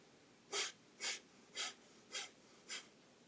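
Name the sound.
quick-paced nose breathing, bliss breath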